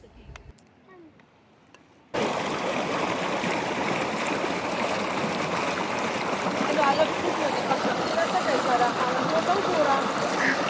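A stream of icy cold water flowing in Swat in winter, a loud, close, continuous rushing and gurgling that starts abruptly after a quiet moment and carries on steadily.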